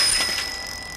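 Bell on a new bicycle, a single bright metallic ring that sounds clearly and then decays steadily over about a second, close and alone.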